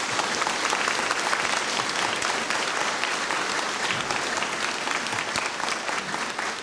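A church congregation in Kartal applauds Brother Csaba before Holy Mass, steady broadband clapping from many hands filling the space without a break, loud and sustained throughout with no voices.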